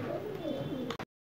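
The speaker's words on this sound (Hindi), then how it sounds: "ये हमारा कबूतर वापस आ गया" A pigeon coos softly and close by over a short stretch, followed by a brief click and then silence.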